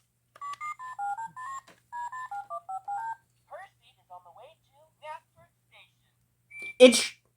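A toy cell phone plays a sequence of short electronic beeping button tones in stepped pitches, followed by brief chirpy electronic sounds and a final burst as the pound key is pressed, all close and clear.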